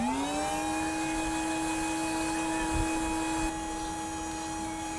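Vacuum cleaner running over the front radiator face of a 1999–2007 Skoda Fabia 1.9 PD with air conditioning, a steady close whine with a strong drone that holds evenly throughout, with no talk.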